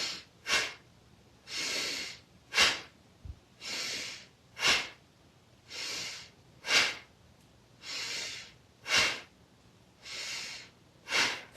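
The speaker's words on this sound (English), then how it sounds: "Forceful exhale out the nose like you're blowing your nose." Forceful yoga exhales pushed sharply out through the nose, about a dozen loud, close bursts in a steady rhythm with quieter inhales between them.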